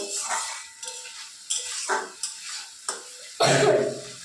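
Fish pieces frying in a pan with mustard paste, a soft sizzle broken by about half a dozen scraping stir strokes at a slow, uneven rhythm, close by and without speech.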